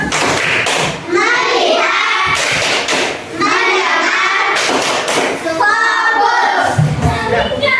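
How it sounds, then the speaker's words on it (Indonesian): A group of children in an Indonesian classroom perform the tepuk fokus focus clap, chanting in unison while rhythmic claps and hand thumps punctuate the steady, fairly loud group voices. "Dan tepuk fokus."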